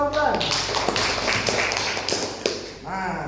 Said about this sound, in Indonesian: Tepuk tangan untuk Kakak Wulan